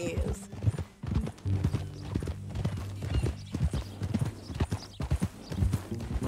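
Rhythmic horse hoofbeats from Red Dead Redemption 2 clip-clop steadily throughout, with a horse's snort or whinny, as people talk over the trotting.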